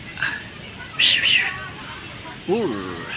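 A Persian cat at a zoo animal sanctuary in Pilillla, Rizal gives a short, close meow amid a low background hubbub, with brief chirping sounds earlier and people talking nearby.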